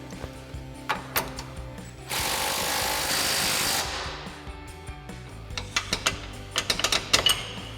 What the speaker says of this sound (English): tighten these down using our 21mm socket on our impact and a 22mm wrench